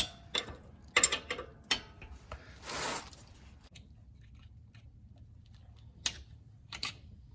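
A ratchet wrench tightens the ball joint nut on the front lower control arm of a 2009-2015 Honda Pilot, giving several short, sharp clicking bursts spread apart with quiet gaps between them, close and fairly faint.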